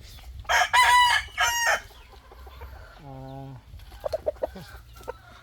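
A three-year-old gamecock crows loudly close by in a long, strained call, then lets out a shorter harsh squawk, with faint clucking and scratchy background noise afterward.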